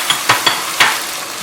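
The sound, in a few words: potatoes frying for aloo palak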